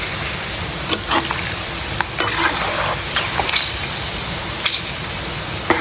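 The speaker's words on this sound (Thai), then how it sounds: "รีบน้ำมันค่ะ ค่อยๆรีบไป เรื่อย ๆจนมันแห้งเนาะจนกาก้อแล้วแห้งเป็นกรอบนะ" Pork fat frying in a pan as it renders into lard and crisp cracklings: a steady close sizzle with scattered crackles and pops throughout, and no talking.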